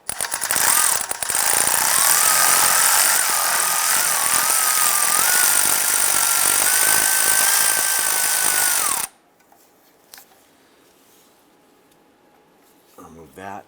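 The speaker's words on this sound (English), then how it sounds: "we're going to use a 13mm socket with swivel and extension" A power tool, likely an impact or ratchet gun driving a 13mm socket on a swivel and extension, whirs loudly and steadily for about nine seconds on a 1995-2001 Ford Explorer starter bolt, then stops, leaving near silence.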